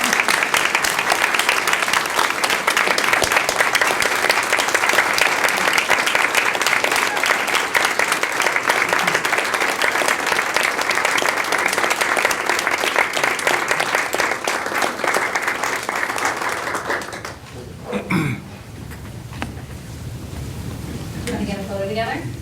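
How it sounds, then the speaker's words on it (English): Sustained loud applause fills a school board meeting honoring a retiring district staff member, steady clapping from a crowd for over fifteen seconds before it fades into room noise and movement. "So how about a round of applause?"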